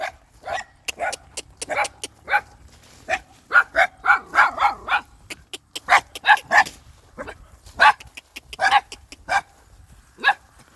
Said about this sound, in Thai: ลูกน้องเนี่ยเห่าดีมากนะครับ